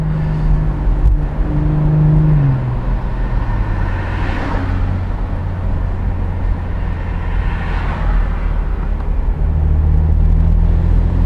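A BMW M440i convertible accelerates, its engine note climbing and shifting through gears with a loud, close rumble and whirring wind noise, no talk over it.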